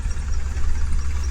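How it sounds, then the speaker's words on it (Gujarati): A tractor engine runs steadily at close range on a farm during a coriander harvest, giving a loud, continuous low rumble with no talk over it. "ટ્રેક્ટર હાલે"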